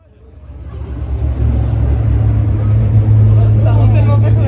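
Formula 3 race cars pull away on a reconnaissance lap at the Paul Ricard circuit, their engine drone swelling over the first second and then holding as a loud, steady roar.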